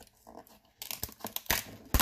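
Pokémon card pack, sealed with tape at the side, being torn open in a few bursts of ripping and crinkling foil, close and fairly loud after a quiet start.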